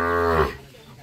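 A bull calf at a cattle market lets out a single loud, close moo that swells and cuts off abruptly, followed by quieter market background.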